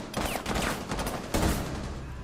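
Video game gunfire, a rapid volley of sharp shots in a dense cluster, followed by a second loud burst partway through.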